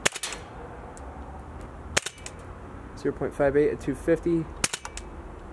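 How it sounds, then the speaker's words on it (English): A gun fired during velocity testing with a cold magazine, three sharp loud cracks spaced a couple of seconds apart, with someone speaking briefly between shots. "It seems like my gun isn't even cycling because the magazine is so cold."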